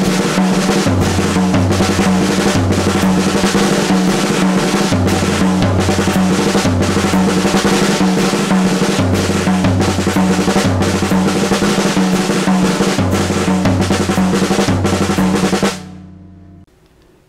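A five-stroke roll exercise played slowly around a drum set: steady, loud rolls and accents move across drums and cymbals in an even rhythm, alone with no talk, then stop abruptly with a ringing decay.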